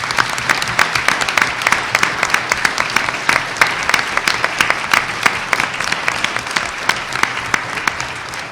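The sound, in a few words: audience applause for students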